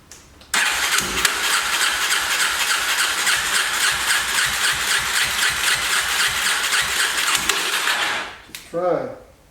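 A 2004 Yamaha TTR 250 dirt bike with a troublesome carburetor cranks with a loud, rapid, rhythmic starter churn and a high squeal, running steadily for several seconds before cutting off, followed by a brief voice.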